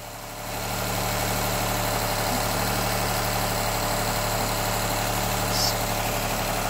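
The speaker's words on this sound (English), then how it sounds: "That sound like a limp home mode. It's got a miss to it." 2008-2015 Honda Accord engine with a broken timing belt and bent valves, running at a steady high idle with a misfire, giving a constant close mechanical drone with a faint uneven miss.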